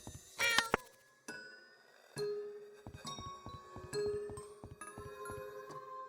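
Cat meowing in the video game YIIK, several short mewing calls spread over the clip alongside game chimes and background music, with no talking.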